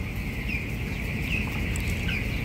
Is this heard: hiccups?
no